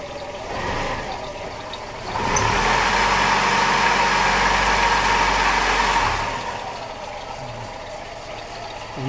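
A Nissan Terrano engine idling while it warms up, a steady mid-pitched hum that rises louder for a few seconds in the middle and then settles back to a quieter idle, with light mechanical clicking.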